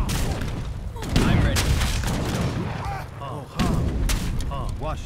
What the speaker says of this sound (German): Unsere Kanonen.